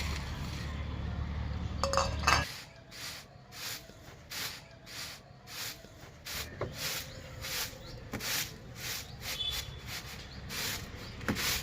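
Flattened rice (chira) is shaken and cleaned in a rhythmic run of a dozen or so close, dry swishing rustles, coming after a few seconds of low hum that cuts off.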